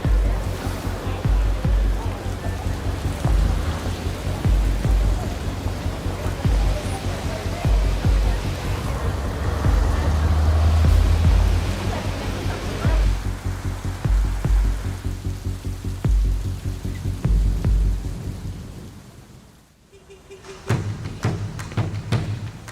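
Heavy rain in Japan after two days of solid downpour, a broad continuous hiss of falling water with low rumbling underneath, steady and loud before thinning out and dropping away near the end.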